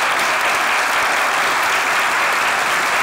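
Loud, dense audience applause, a continuous wash of many hands clapping evenly from start to end.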